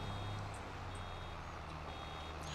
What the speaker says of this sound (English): It's funny because I hear that beeping.